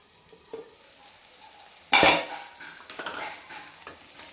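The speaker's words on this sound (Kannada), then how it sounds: "ನಾನು ಲಿಡ್ ಕ್ಲೋಸ್ ಮಾಡಿ ಫ್ರೈ ಮಾಡ್ಕೊತಾ ಇದ್ದೀನಿ" Onions frying under a closed lid in a home kitchen, a soft steady sizzle with a brief louder burst of crackling and a light clink of cookware partway through, close and without talk.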